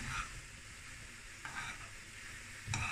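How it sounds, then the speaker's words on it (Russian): Zucchini stewing in its own juice in a dry pan without oil, a faint continuous sizzle with a few louder stirring bursts, close and alone. "Все тушится в собственном соку"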